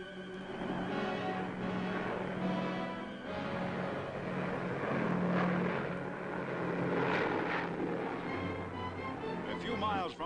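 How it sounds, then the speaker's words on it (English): American military planes patrol overhead above a Japanese garden shrine in postwar Japan, a steady droning propeller engine hum that swells and fades slightly, faint and distant with a muffled old-film quality. "Overhead, American planes patrol."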